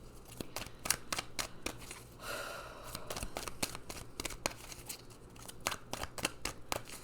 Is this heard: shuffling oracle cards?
yes